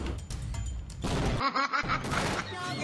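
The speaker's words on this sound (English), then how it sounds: "Send in the missile! Fire the missile!" A missile launch comes through as a loud, rushing blast with a harsh crackle and a deep thumping burst midway, all dense and close.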